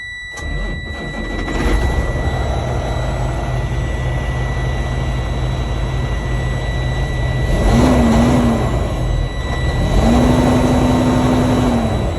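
A truck's engine cranks and catches near the start, then settles into a steady, loud low idle, with a constant high whine and brief warning tones sounding over it toward the end.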